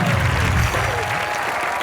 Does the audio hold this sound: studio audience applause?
yes